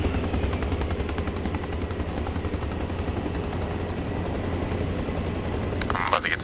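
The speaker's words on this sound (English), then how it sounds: "Inbound helo, reference white smoke" Helicopter in the ARMA Reforger military game approaching with a steady, loud rotor thrum and engine drone throughout, a faint voice briefly underneath near the end.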